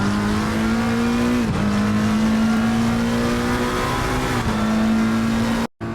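A GT3 race car in a racing game pulls away at Monza, its engine droning loud and steady in a high rev with two brief gear-change dips, then cutting out abruptly near the end.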